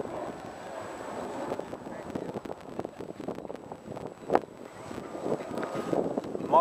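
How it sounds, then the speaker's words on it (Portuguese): Strong wind buffets a boat, producing gusty rumbling against the microphone with irregular bursts and a sharp thump near the end, while voices talk faintly underneath. "Mó vento, hein?"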